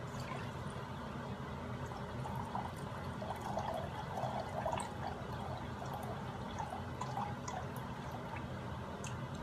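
Distilled water from a grocery store is poured into a glass measuring cup in a faint, steady, continuous trickle close by, with no voices.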